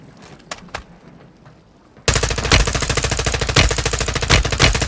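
Sustained automatic fire from a mid-caliber weapon in a battle royale video game bursts in loudly and stays continuous after a quiet opening of faint scattered clicks.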